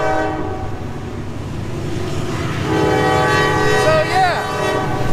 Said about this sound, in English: And here comes a fucking train.